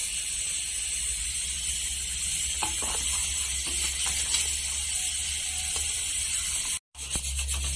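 Vermicelli payesh with crushed cardamom simmers in a pot, a steady, close hiss of boiling that runs unbroken apart from one brief drop near the end.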